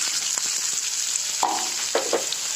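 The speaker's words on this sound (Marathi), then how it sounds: "आता असंच भाजून घेते मी हे सगळं साहित्य आता हे कांदे टाकले" Chopped onions sizzle steadily in a hot pan while chickpea masala is cooked, a constant close frying hiss with a few stirring scrapes near the end.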